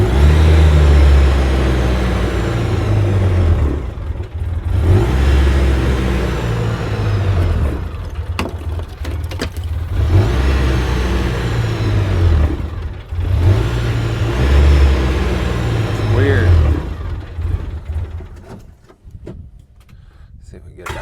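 A UTV engine with a hanging throttle revs hard and unevenly, surging in long loud swells with brief dips between, close by, while people talk over it.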